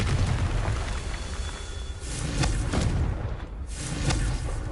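Confringo fire spell explosions in Hogwarts Legacy on PS5: a run of rumbling booms and bursts that fill the clip loudly, with no gap between blasts and no speech.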